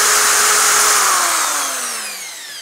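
An electric drill spins with a loud, close, high whir that holds steady and then winds down, its pitch sliding lower as it slows.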